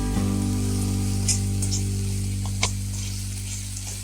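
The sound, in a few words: stirring spice masala frying in oil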